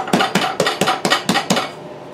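Seven quick, even metallic taps of a cake pan knocked against a cake board after flipping, close and crisp in a steady rhythm, then quiet.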